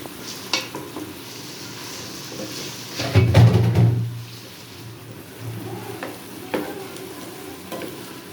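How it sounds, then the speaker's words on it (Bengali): Bottle gourd sautéing and being stirred with spices in a hot pan: a steady close sizzle, broken by louder scraping stirs around the middle and a few more knocks of the spoon near the end. "এই যে লাউগুলো দিয়ে কষাবো।"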